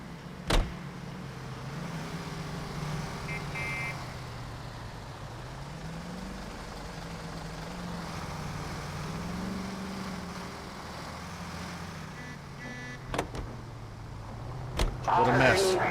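A car driven in the game L.A. Noire hums along with a steady engine drone that rises and falls with speed, broken by a few sharp clicks and thuds, with a voice speaking over it.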